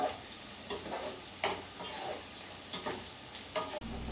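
Ivy gourd curry frying in a pan, a steady low sizzle with occasional stirring scrapes, fairly quiet and close, with no talk.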